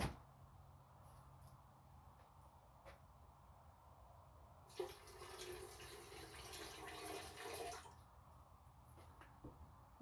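Gasoline poured into the tank of a two-stroke Honda Odyssey ATV, a steady liquid rush lasting about three seconds mid-clip, set against quiet background noise with faint small knocks before and after.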